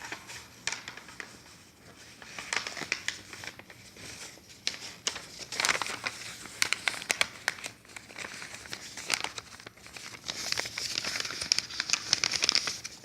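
A little piece of paper being handled, heard as close, irregular crinkling and crackling throughout, with louder rustles and small snaps scattered over a quiet room background.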